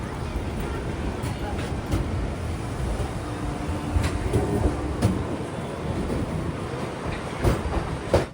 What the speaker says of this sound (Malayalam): പട്നയുടെ ഒരു സാറ്റലൈറ്റ് സ്റ്റേഷനായ രാജേന്ദ്ര നഗർ ടെർമിനൽ സ്റ്റേഷനിലേക്ക് ഇതാ ട്രെയിൻ എത്തി